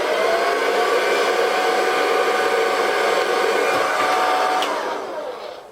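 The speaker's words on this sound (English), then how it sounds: "So you grab the hair dryer" A hair dryer blows steadily and loudly, warming natural-style mustache wax to soften it, a continuous airy whir that holds for several seconds and then fades near the end.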